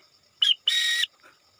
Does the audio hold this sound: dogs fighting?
no